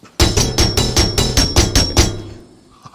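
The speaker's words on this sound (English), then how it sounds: "you can make like the clang sound." Sword strikes producing metallic clangs in the VR game A Township Tale: about eight rapid, evenly spaced ringing hits, loud and close, with a bright tonal ring, then fading quiet.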